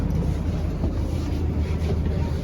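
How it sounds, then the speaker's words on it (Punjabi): Steady loud rumble and hiss inside a moving Delhi Metro train carriage, continuous low-frequency rolling noise with no distinct breaks and no speech. "ਲਓ ਜੀ ਫਾਈਨਲੀ ਆਪਾਂ ਚੜ ਗਏਾਂਗੇ ਟ੍ਰੇਨ ਦੇ ਵਿੱਚ"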